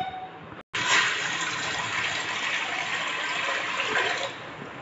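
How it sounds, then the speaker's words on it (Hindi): Water pours steadily into a cooking pot set on a gas stove, a loud, continuous gushing splash that lasts several seconds after a brief silent gap. "अब इसमें थोड़ा सा पानी डालेंगे।"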